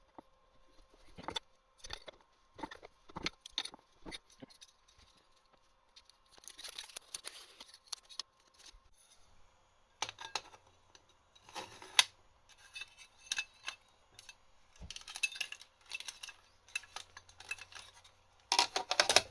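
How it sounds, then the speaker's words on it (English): A bench shear cuts along a marked line in a workshop, producing sharp intermittent metallic snips and clanks with quiet pauses between strokes, close and fairly crisp. "I'm going to try and cut along that line with the bench shear."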